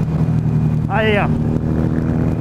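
A Harley-Davidson Sportster 883R motorcycle engine rumbles steadily and close, a low throbbing drone throughout, with a brief shout heard over it.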